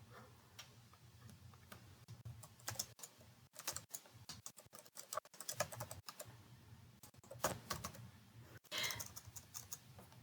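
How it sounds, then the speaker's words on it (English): Rapid, irregular key clicks from typing on a computer keyboard, near and fairly quiet, with short pauses between bursts and no talk. "I love when I'm typing and I make typos"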